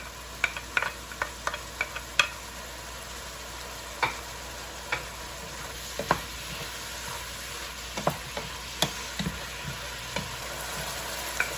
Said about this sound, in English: Next, add your garlic.